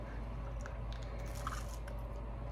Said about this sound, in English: I hear the crunch.